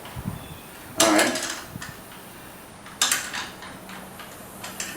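Close metallic clicks and scrapes of a hand tool working a bicycle handlebar bolt, with a bike set upside down; two louder bursts of ratcheting clatter separated by quieter handling noise, no talk.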